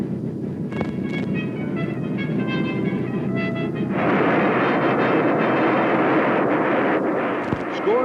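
A Bell X-1 rocket plane drops from a B-29 bomber and fires all four rockets: a steady roar that jumps to a louder, harsher rush partway through and holds, with a few sharp tones early on and no talking.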